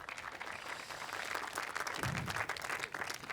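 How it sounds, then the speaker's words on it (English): An audience at a film music event applauds steadily, a dense wash of many hands clapping that holds at a constant level for a few seconds. "Give them a warm applause."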